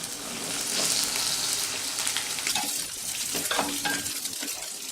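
Okra sizzles steadily in two spoonfuls of hot oil in a pan, the frying broken by stirring and scraping sounds close to the microphone.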